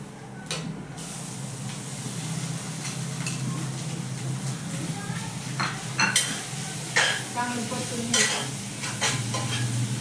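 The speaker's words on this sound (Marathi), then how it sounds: "आणि थोडासा गरम मसाला टाकून आता यात बटाटे टाकून द्यायचे" Boiled potatoes tossed into a pan spiced with garam masala and stirred, giving a steady close sizzle broken by scraping and clanking spatula strokes that grow louder toward the end.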